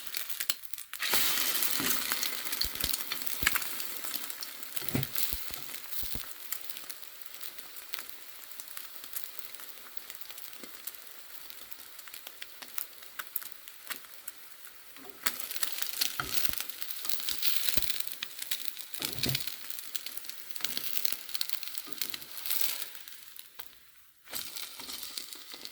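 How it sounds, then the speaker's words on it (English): Egg-soaked bread slice frying in a pan for French toast, a steady close crackling sizzle with bursts of spitting and popping running throughout, no voices. "going to drop the first slice of bread that has been sitting here soaking into the pan"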